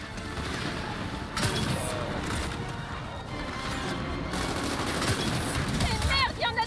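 A turret fires continuously in the Gears of War 4 video game, steady rapid gunfire rattling under the busy battle noise with crashes and shouted French voices.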